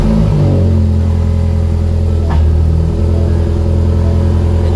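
Ford Focus ST with a big turbo cranking and firing roughly after sitting unused, its engine catching with a loud low rumble that settles into a steady uneven idle close by.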